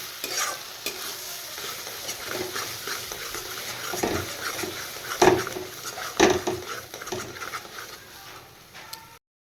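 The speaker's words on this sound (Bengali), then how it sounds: "এবার দিয়ে দিচ্ছি পেস্ট করে রাখা চিংড়ি এবার ভালো করে মিশিয়ে আমি একদম ভাজা ভাজা করে নেব" Shrimp paste stirred and fried in a pan gives a steady, close sizzle with a spatula scraping throughout and two sharper clanks against the pan.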